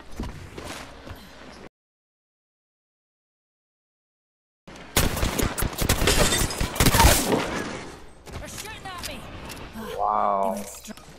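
Rapid gunfire in the Apex Legends video game bursts loud and dense for a few seconds after a short silence, mixed with game voice lines and player talk, then fades into other effects.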